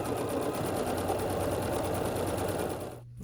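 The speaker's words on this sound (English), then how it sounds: "we'll just sew along this long edge here." Domestic sewing machine stitching along the long edge of a pieced quilt unit, a steady close whirring hum with rapid needle clatter that runs continuously and then stops abruptly near the end.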